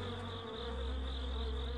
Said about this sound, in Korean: 어둠 속에 찾아온 말벌의 습격.